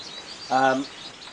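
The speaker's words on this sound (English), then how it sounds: "The birds over there are in fine fettle and singing the back ends off." Songbirds kept in an indoor bird room give a short, clear chirping phrase at moderate volume over a quiet background.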